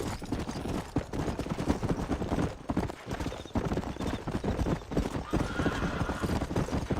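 A horse in the video game Red Dead Redemption gallops with rapid, continuous hoofbeats and lets out a whinny, the pounding rhythm loud and steady throughout.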